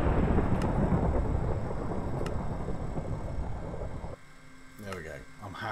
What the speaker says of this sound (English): I don't like this thunder stuff.